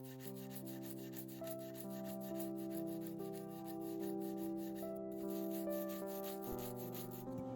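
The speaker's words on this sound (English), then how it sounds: "firm brush to make sure everything from under the frets is removed" A firm brush scrubs dirt and rust from under the frets of a vintage guitar in steady, rapid back-and-forth strokes, close and fairly quiet, while sustained tonal hum runs beneath and no one speaks.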